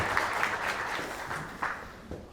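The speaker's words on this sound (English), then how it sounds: "Please give an applause to Ulf" A seated audience at a company presentation on type 1 diabetes research claps to welcome a speaker, a moderate, fairly steady applause with a few sharper individual claps standing out toward the end.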